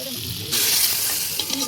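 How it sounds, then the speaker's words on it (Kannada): Hot tempering poured into sambar in a pan bursts into a loud sizzle partway through, after a quieter start, then hisses on with small crackles and stirring. "ಇದರೊಳಗಡೆ ಒಂದು ಸ್ವಲ್ಪ ಸಾಂಬಾರನ್ನ ಹಾಕಿ ಒಗ್ಗರಣೆ ಮಾಡ್ಕೋಬೇಕು"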